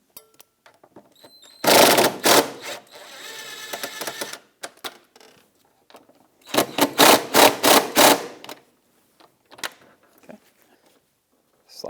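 Bolts being removed from the airbox top of a 2000-2006 Honda CR-V with a ratcheting tool, two bursts of rapid clicking separated by quieter handling, close and dry, then small taps fading to silence.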